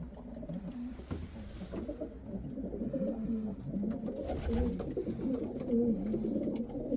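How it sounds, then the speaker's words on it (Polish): Pigeons coo in low, throaty, rolling calls that repeat steadily and overlap, fairly close, with no talking. "Ale już gołębie wyją. Czują wiosnę"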